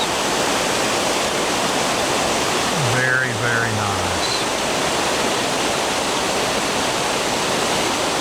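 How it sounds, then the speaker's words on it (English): A small man-made waterfall at Babcock State Park gives a steady, close, broadband rush of falling water throughout, with a brief voice speaking midway. "Look at this nice little waterfall here. It's man-made, but it's beautiful nonetheless."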